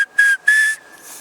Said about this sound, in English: there's a 3 chirp whistle that'll be a stop signal.